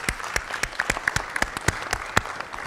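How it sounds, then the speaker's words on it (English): A small workshop audience claps for a guideline development panel, a sparse, uneven patter of individual hand claps, close and distinct, lasting under three seconds. "Let's give them a big clap"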